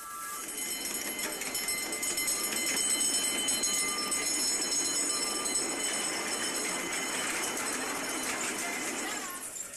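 A train moving on a track, most likely a live steam model locomotive on 5-inch gauge track, gives a steady, loud rolling rumble with a bright metallic hiss and squeal held for the whole stretch.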